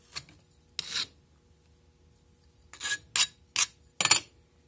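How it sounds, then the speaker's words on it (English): Excess red clay scraped off a casting mold, heard as a few distinct raspy strokes: two early and four in quicker succession toward the end, close and fairly quiet against silence. "Scrape it off."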